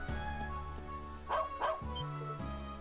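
A dog barks in the video game Trails of Cold Steel 2, giving a couple of short yips amid game background music, with no talk.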